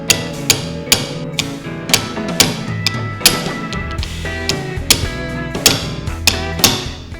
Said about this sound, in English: use a punch and a little hammer. You're just gonna tap that in.